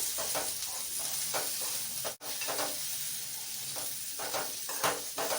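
Okra palya is stirred and mixed in a hot pan, giving a steady hissing sizzle under repeated rhythmic scraping strokes of the spoon, close and fairly loud. No one talks.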